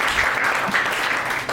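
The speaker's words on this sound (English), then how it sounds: "Don't applaud" Comedy club audience applauding during a stand-up set, a short, even wash of clapping from the crowd.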